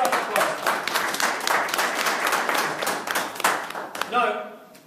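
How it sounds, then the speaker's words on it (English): Audience applauding a guest at a FutureNet business presentation in Birmingham, dense indoor clapping that stays steady and fairly close, then quickly fades out as a voice starts to speak. "This gentleman, give a round of applause."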